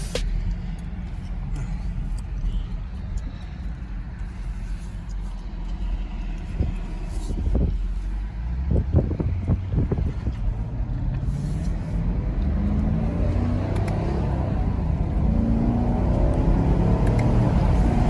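A 2019 Chevrolet Camaro SS exhaust is heard while driving through the gears. A steady low rumble builds into a rising, growling rev toward the end, with no talk over it.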